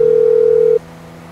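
A phone call tone in Grand Theft Auto 5 sounds as one steady loud beep, then cuts off abruptly into a faint background.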